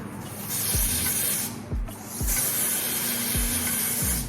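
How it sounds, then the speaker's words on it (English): Ebin Wonderlace Extreme Foam Hold sprays onto wig lace in several steady, close hissing bursts of roughly a second each, separated by short breaks. "we can apply it with our Ebin Wonderlace Extreme Foam Holds"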